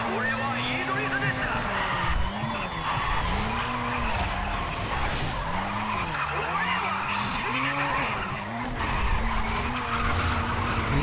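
Racing game car skidding through a drift on a Tokyo corner in Race Driver: GRID, engine drone with wavering squealing tires running continuously and loud, a voice talking over it throughout.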